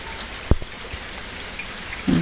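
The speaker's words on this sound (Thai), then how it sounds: "ฝนตกมาก็พอดีแล้วจ้ะ" Light rain patters steadily on a farm in cold weather, a soft even hiss with a few louder drops close by and no talking.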